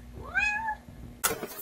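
A cat gives a single clear, rising-and-falling meow close by, followed a moment later by a short noisy rustle.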